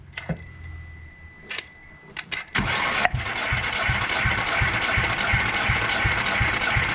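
A MK4 Jetta 1.8T engine cranks over on the starter during a compression test, a steady, fast, rhythmic chugging that starts abruptly after a few clicks and runs loud and close without catching.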